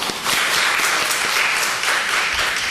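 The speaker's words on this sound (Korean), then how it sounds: "어휴 박수 한번 쳤어요." A church congregation applauds during a Sunday service, steady broadband clapping that fills the whole stretch at a strong, even level with no talk over it.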